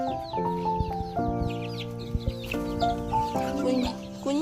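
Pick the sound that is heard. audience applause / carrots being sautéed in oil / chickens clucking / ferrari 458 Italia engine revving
chickens clucking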